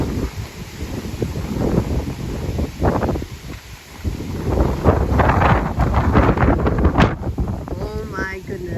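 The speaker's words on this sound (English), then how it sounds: "oh my goodness, the wind is whipping" Gusty wind buffets the microphone in a garden, a loud rumbling roar that swells and falls throughout while a person talks over it.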